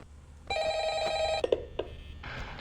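A telephone bell rings in Five Nights at Freddy's, one loud electronic ring burst followed by a few thumps and a second ring starting, heard close with no talk.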